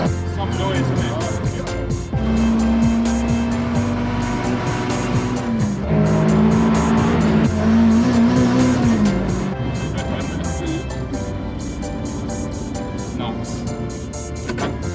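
Group B rally car driven hard, its engine roaring loud and continuous throughout, with a rising and falling engine note and rough, gritty road and tire noise up close.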